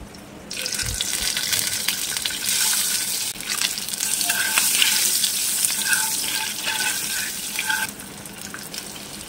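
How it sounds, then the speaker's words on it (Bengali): Boiled eggs frying in hot oil seasoned with turmeric and salt, a continuous bright sizzle with some stirring, starting abruptly and running throughout. "ডিম ভাজা হয়ে গিয়েছে, এখন তুলে নেব।"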